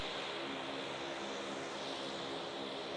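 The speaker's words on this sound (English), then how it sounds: "A small airplane taxis on a runway." A small propeller airplane taxis on a runway in Alaska, its engine a steady, loud broadband drone that holds unchanged throughout, with no voices.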